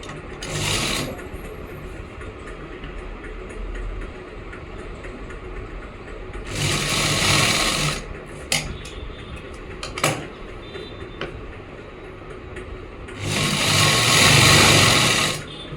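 A sewing machine stitching a salwar runs in three short bursts of fast, buzzing whir, close and fairly loud, with quiet handling clicks and pauses in between.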